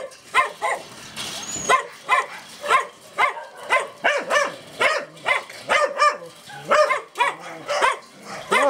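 Puppies bark in a kennel enclosure at an animal shelter, sharp high-pitched barks and yips repeating in quick, uneven bursts, close by and fairly loud with no talking.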